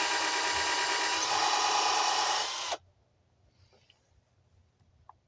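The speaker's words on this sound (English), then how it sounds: "and then I drill 2 holes to move." A power drill bores into a wooden gate, whining loud and steady for nearly three seconds before cutting off abruptly, leaving only faint workshop quiet.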